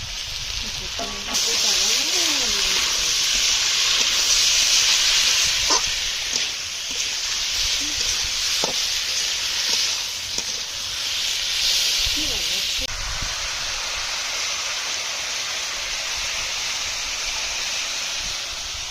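Chopped tomatoes hit hot oil in a pan while cooking a small tilapia fish dish, giving a loud, steady hiss and sizzle that holds for most of the clip, easing slightly near the end with occasional clatter.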